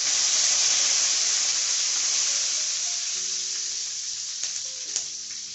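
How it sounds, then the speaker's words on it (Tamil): Green chilli, curry leaves, fennel, cinnamon and cloves crackle in hot oil as a steady, loud sizzle that slowly eases, with a few faint clinks near the end. "பச்சை மிளகா, கருவேப்பிலை, சோம்பு, பட்டை, லவங்கெல்லாம் நல்லா பொரிஞ்சிச்சு."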